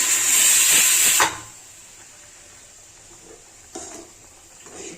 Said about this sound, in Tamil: இப்போ விசில் வந்துட்டு ஒரு அஞ்சு விசில் கிட்ட எடுத்துட்டு நம்ம ஆஃப் பண்ணிக்கலாம்